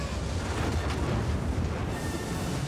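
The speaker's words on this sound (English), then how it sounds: "Why did they fire the cannons at me?" Cannons firing in the video game Jedi Fallen Order, a dense, loud rumbling barrage of booms and blasts that sustains without a break, heavy in the low end.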